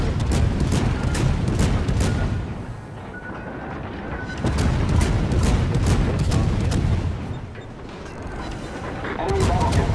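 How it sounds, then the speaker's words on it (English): Cruiser Worcester's guns fire HE shells in World of Warships, rapid repeated booms in dense volleys with brief lulls, loud and close, with a voice speaking over part of it. "I am firing HE"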